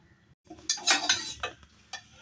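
A spoon scrapes and clinks against a pot while dal is mixed with grated raw mango, giving a few uneven stirring strokes with soft metallic scraping, close and fairly quiet.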